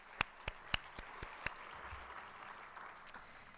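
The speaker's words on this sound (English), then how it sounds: "one more round of applause for all of the members at our president's table" Sparse applause from an audience at an economic club luncheon, a handful of distinct claps fading into scattered light clapping, faint and fairly distant.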